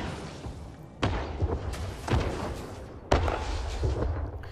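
Rockets firing at skimmers in the Elite Dangerous video game: several heavy thudding launches and impacts land roughly a second apart, close and punchy over low background rumble.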